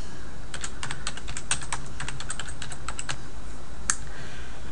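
Rapid, crisp keystrokes on a computer keyboard while an email message is typed, a close, uneven run of clicks over quiet room tone.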